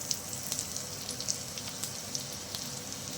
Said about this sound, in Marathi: दोन चमचे तेल घालून थोडंसं लसूण घालणार आहेत